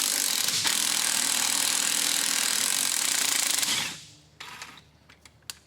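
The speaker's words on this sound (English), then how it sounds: "I have my 12mm 12-point socket on the bolts for this flange here" A 12mm 12-point socket on a ratchet loosens drive shaft flange bolts on a 4x4, giving a dense continuous rattling whir for about four seconds, then stopping, followed by a few sharp clicks and knocks.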